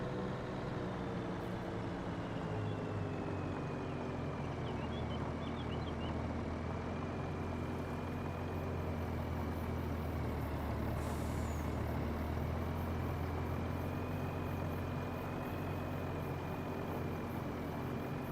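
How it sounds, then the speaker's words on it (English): A truck unloads in the Farming Simulator 25 video game, giving a steady low engine drone with a faint tonal whine that holds evenly throughout and no speech. "That truck is unloading down there"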